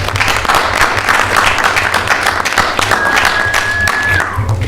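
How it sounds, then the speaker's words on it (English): A student audience giving a quick round of applause, loud and dense clapping throughout, with a faint voice and a thin whistle-like tone in the middle. "So can we give them a quick round of applause,"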